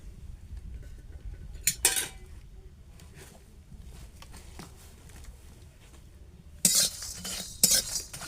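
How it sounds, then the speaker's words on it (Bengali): Garam masala, cloves, cardamom and cinnamon dry-roasting in a pan, with soft rustling broken by sharp metallic scrapes and clinks of a spoon against the pan, close and intermittent. "এগুলো আমি সব শুকনো খোলায় ভালোভাবে ভেজে নেব"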